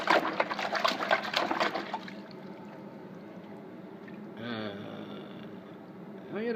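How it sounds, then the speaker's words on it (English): Tap and hose pipe running water over brass outdoors, a splashing pour at first that settles into a softer trickle, close, with a voice talking near the start. "just giving it a little bit of a wash outside with the tap and the hose pipe"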